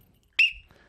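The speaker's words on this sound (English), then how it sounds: "Referee's whistle." A referee's single sharp whistle blast at a football match sounds once, loud and close, trailing off quickly against a quiet background.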